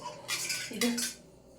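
A silver bowl is handled in a home kitchen, with a couple of quick metallic clinks and a short ringing scrape close by.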